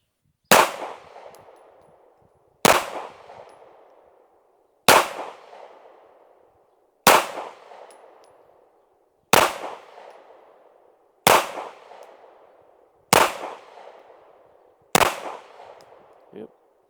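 Eight loud, sharp gunshots from a PX-9 carry pistol firing 124-grain S&B rounds at an outdoor range, spaced evenly about two seconds apart, each with a short ringing decay.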